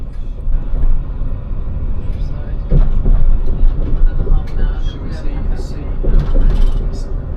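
A Caledonian Sleeper train from London Euston to Fort William rumbles steadily along the rails, heard from inside, with low rolling noise, occasional clatter and creaks, and faint talk underneath.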